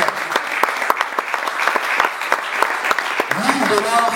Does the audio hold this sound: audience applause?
yes